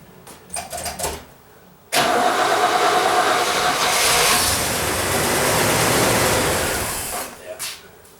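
A 1964 Oldsmobile 98 with a swapped carburetor cranks, catches and runs loudly for about five seconds before sputtering out and dying, with brief cranking sounds before and after.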